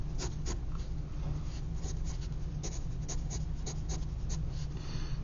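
Quick pencil sketching of bird feathers on paper: fast, scratchy strokes repeat steadily and close up, with no talking and a low steady hum underneath.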